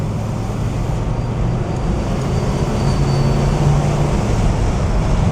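A restored 1969 Oldsmobile 442 W-30 cruises along a road, its engine a steady low hum under broad road and wind noise heard from inside the cabin.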